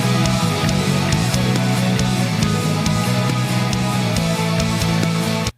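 Guitar chorus section of an original song with an added layered part, steady strummed chords ringing continuously and evenly at moderate volume, with no voice, ending abruptly.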